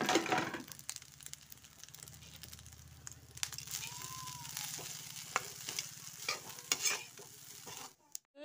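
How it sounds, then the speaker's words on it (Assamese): Leftover cold cooked rice reheated with a little oil in a pan, a soft steady sizzle broken by repeated scraping and stirring strokes, close by, with a brief faint clatter near the end. "ইয়াতে এই ভাতখিনি অকণমান গৰম কৰি দিম।"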